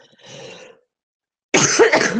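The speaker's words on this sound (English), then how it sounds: "I would like to stop coughing in your ears." A soft throat sound, then after a short silence a loud, close cough, with no speech.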